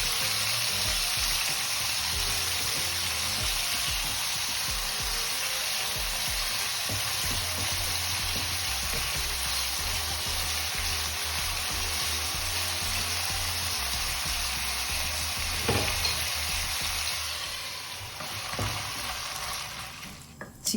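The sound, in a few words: chicken frying and stirred in oil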